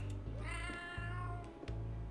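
A cat in a video game meows in drawn-out, whiny calls over a steady low background hum, with a few short clicks between them.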